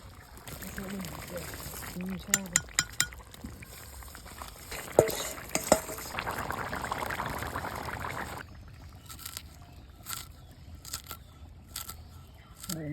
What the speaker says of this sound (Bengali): জল ফুটছে এবার ডিমগুলো ছেড়ে দিই